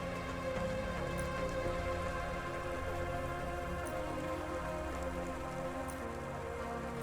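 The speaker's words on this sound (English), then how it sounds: "Don't let all the rain get you down." Steady rain falls in the video game Cloudpunk, a dense, continuous hiss of drops with soft patter and occasional brighter splashes, even and moderately loud throughout with no talking.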